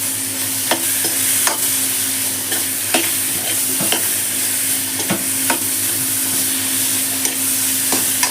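Bitter gourd fries in a pan with ground onion-chili paste, a dense, loud, continuous sizzle punctuated by regular sharp scrapes and taps of a stirring spoon, close by and with no speech.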